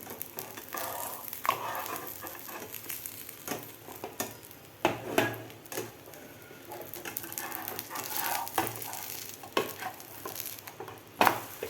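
A vegetable egg paratha frying on a pan in oil gives a soft, fairly quiet sizzle, with occasional sharper scrapes and taps from a spatula flipping and pressing it.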